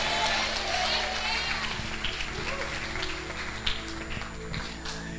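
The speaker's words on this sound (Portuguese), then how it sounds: "Aplaude dizendo glória a Deus aí" A church congregation claps together in a steady, dense wash that sounds almost like rain, holding throughout while a voice speaks over it.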